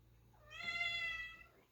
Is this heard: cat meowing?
yes